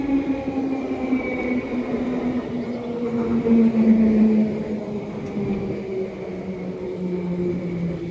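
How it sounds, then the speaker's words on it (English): A London Underground Bakerloo line train pulls into South Kenton station, a loud steady rumble with tonal motor whine and gently falling pitch as it slows, close by with no talking. "arriving in is going to be the 1306 London Underground Bakerloo service to Harrow and Wealdstone"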